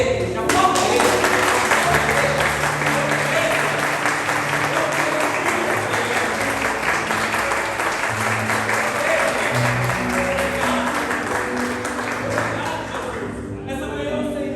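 A church congregation applauding, sustained loud clapping from a large crowd that swells in for nearly the whole stretch, with music and a voice underneath, then fades near the end.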